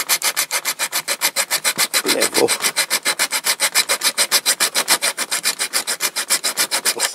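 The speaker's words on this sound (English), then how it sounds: "So yeah, I'll just file these down" A file rasps quickly back and forth over small die-cast metal parts from a Dinky Toys Bedford Pullmore car transporter, dozens of even, rhythmic strokes close by, with a single brief spoken word partway through.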